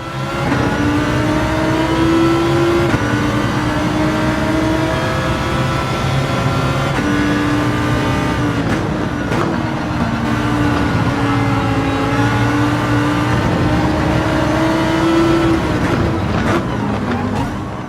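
Race car engines in a VR racing game, a loud continuous engine drone with pitch rising and falling through gear changes as another car follows close behind.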